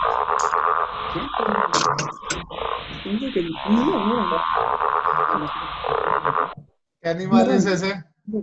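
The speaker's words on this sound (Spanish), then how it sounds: "Es una rana" A frog croaks steadily and loudly in repeated low calls, with a person speaking over it near the end.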